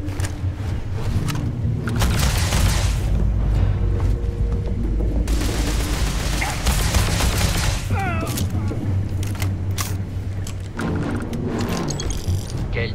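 Weapon fire in the space game Starfield comes as rapid bursts and heavy bangs mixed with mechanical clatter, set against game music while a person talks over it.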